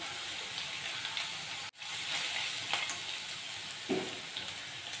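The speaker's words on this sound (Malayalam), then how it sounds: "സവളയുടെ കൂടെ നമുക്ക് നല്ലപോലെ ഇളക്കി ഒന്ന് വേവിച്ചെടുക്കാം" An onion mixture for upma fries in a pan with a steady soft sizzle, broken by a brief dropout and a few light stirring scrapes; no speech.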